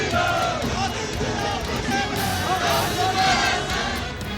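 A dense crowd of political supporters with saffron flags chants slogans at a street rally in Mandi, a loud, continuous roar of many voices with rising shouts and cries throughout.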